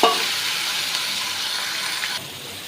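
Ground masala paste sizzles in two spoons of oil in a pan over medium heat, making a steady, close frying hiss with a sharp onset and a few faint scraping stirs.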